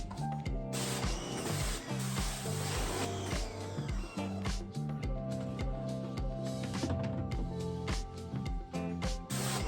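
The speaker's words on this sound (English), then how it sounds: "I just have a simple pressure washer, and I like to get both sides of the screen wet" A pressure washer sprays a screen-printing screen, its pump motor droning loudly with a dense, harmonic buzz and a constant spray hiss that stutters briefly in places.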